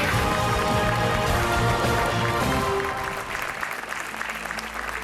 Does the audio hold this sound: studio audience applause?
yes